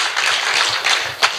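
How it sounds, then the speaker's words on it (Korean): An audience at a Korean talk-party opening applauds: a brief, steady wash of clapping that fills the room, with one sharper clap near the end. "박수부터."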